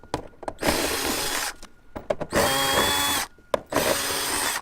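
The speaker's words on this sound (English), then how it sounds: "we're going to unscrew this panel" A power drill unscrews a sauna control panel during an HM Parts Gen3 to Gen4 upgrade, giving three close, loud bursts of high motor whine separated by brief pauses and small clicks.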